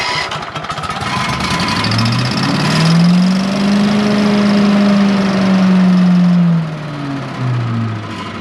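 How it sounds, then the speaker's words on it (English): An 18 horsepower Vanguard engine on a leaf vacuum and leaf box setup runs with a steady, loud drone that swells in pitch mid-way, then eases back down toward the end. "Electric start, pull start, 18 horsepower Vanguard engine."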